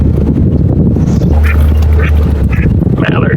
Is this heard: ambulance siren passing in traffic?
no